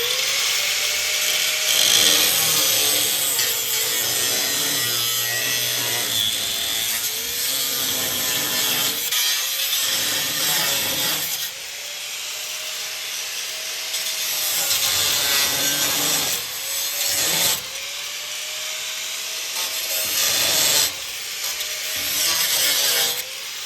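Harsh, continuous cutting of a Jeep's metal body with a power tool, the grinding tone rising and falling in repeated passes, loud and close with brief pauses.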